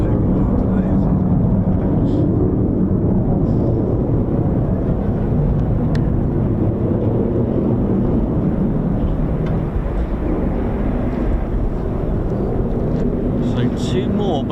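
Loud, continuous roar of an F-15 or F-35 fighter jet at RAF Lakenheath after an aileron roll, a broad steady rumble filling the whole stretch with no talk over it.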